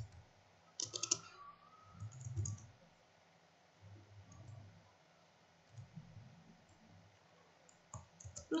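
Keys tapped on a computer keyboard while an email address is entered, coming in several short bursts of quick, light clicks separated by quiet pauses, faint and close by.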